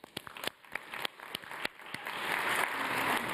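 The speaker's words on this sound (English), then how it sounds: "So let's give our contestants a round of applause." Audience applause for contestants at a climate change talk, starting as scattered individual claps and swelling into dense, steady clapping from a moderately distant crowd.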